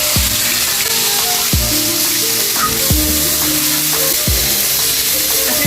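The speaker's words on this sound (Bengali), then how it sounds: "মাছগুলো ভেজে নেব, একটু কড়া করে ভেজে নেব" Fish frying in oil in a wok for a Bengali cauliflower-and-fish dish, giving a steady loud sizzle with repeated sharp scrapes and clinks of a spatula, no talking.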